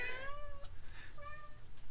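A cat meows twice near the microphone during a coolant-leak repair on a Mitsubishi 3000GT. Two drawn-out, wavering meows separated by a short gap sit over a low steady hum, with no talking.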